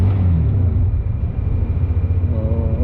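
A Caruza 200i motorcycle engine idles with a loud, close, low rumbling drone that holds steady and pulses slightly during an RPM check, with no talking.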